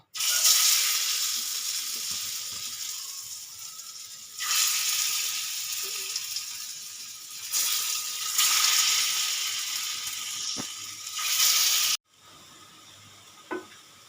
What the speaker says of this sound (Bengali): এরকম লাল লাল করে ভেজে নিতে হবে